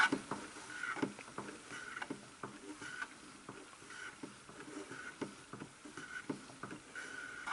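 Vinyl record being turned by hand through the cleaning fluid of a Knosti Disco Antistat cleaning machine, soft wet sloshing and light rhythmic patter and clicks, faint and close with no speech.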